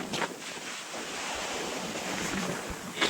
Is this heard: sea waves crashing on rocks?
yes